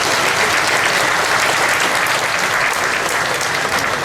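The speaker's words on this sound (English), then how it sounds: "If we can give them a round of applause as well" A crowd at the Hmong Wausau Festival gives a steady, loud round of applause for two state representatives, dense clapping sustained evenly from start to finish with no break.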